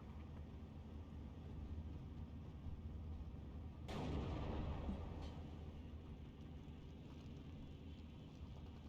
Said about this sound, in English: Heavy artillery start to fall.